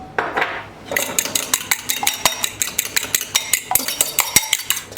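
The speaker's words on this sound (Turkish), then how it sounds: "İçerisine sürmek için bir adet yumurtam var. Çırpıyorum." A single egg being whisked in a bowl with a pinch of salt and black pepper, a fast regular clinking of metal against the bowl after a brief rustle, close and alone.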